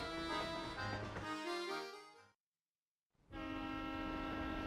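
A train in the Professor Layton game rumbles with a horn-like tone under musical game sound, cutting to silence for about a second before resuming steadily.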